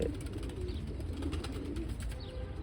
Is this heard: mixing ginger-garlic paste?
no